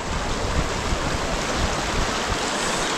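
Icy, snow-fed water of the Amravati river on the Amarnath Yatra route, rushing in a dense, continuous broadband roar, loud and close with no letup.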